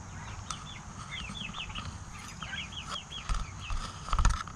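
Turkeys in a pen give soft, repeated clucks and short chirping calls, fairly quiet and scattered, with a few louder thumps near the end.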